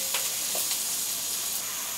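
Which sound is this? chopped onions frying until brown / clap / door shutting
chopped onions frying until brown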